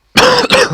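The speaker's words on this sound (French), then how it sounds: "désolé pour la toux" A single close, harsh cough with a brief break and a second burst right after, loud and with no talking around it.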